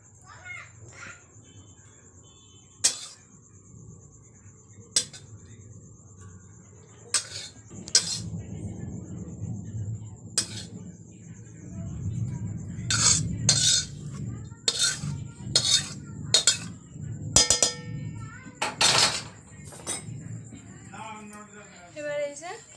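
Metal plates and serving utensils clink in a series of sharp, bright knocks while fried rice and vegetables are portioned out, with crows cawing outdoors in a village setting and a low murmur of voices underneath.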